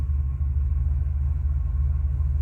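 A 1965 Oldsmobile 98 luxury sedan engine idles smoothly with a steady low rumble, even and continuous throughout.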